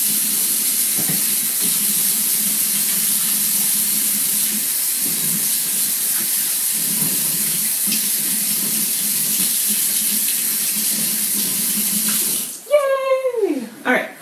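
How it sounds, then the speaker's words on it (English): Tap water runs in a steady, loud rush while hands are washed at a kitchen sink, cutting off near the end as a voice briefly speaks. "I'm going to wash my hands again"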